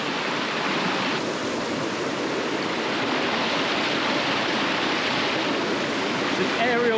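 A larger stream rushes continuously close by, a dense steady wash of flowing water with no break in the sound, while people talk faintly now and then beneath it.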